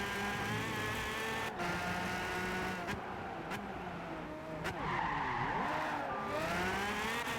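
A McLaren in Gran Turismo 5 skids on the e-brake, its tires squealing in long wavering tones over a steady engine roar, the pitch bending sharply midway through a slide.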